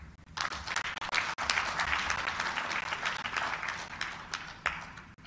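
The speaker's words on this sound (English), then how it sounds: "Please, a round of applause for our elders." Audience at a democracy stakeholders' meeting of African leaders breaking into sustained applause for the elders, a dense wash of clapping that swells and holds steady with a few sharper claps standing out.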